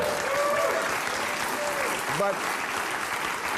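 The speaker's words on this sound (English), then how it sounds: "Why are these fucking assholes cheering?" A crowd cheers and claps steadily throughout, a dense wash of applause with a few whoops rising from the audience, while a voice briefly speaks over it near the end.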